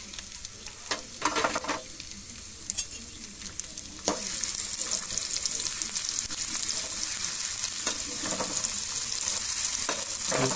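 Chopped onion dropped into hot oil for poha, with a soft stirring clatter at first, then a loud, steady sizzle and crackle that swells after a few seconds and holds close and continuous to the end.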